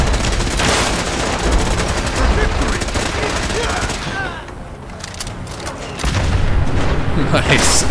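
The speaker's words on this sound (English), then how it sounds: "He just chucked a bomb right up at where that guy was" Heavy gunfire rattles without pause in a Fallout 4 firefight, with a deep bomb blast landing in the middle; the shooting thins briefly, then comes back loud and close.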